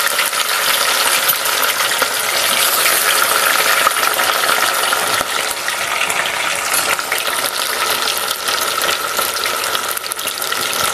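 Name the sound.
fish frying in a pan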